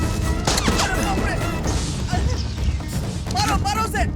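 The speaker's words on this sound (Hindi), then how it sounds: "भाई गोली चलाओ, मारो इसे।" Gunfire rings out in a Hindi-dubbed South Indian action film: sharp bursts and cracks crowded together under loud, shouting voices and a busy, chaotic action scene.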